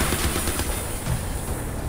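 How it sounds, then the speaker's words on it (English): Rapid machine-gun fire rakes the player in Crysis 3, a dense, loud stream of automatic shots with no voices over it. "Who or what is shooting me?"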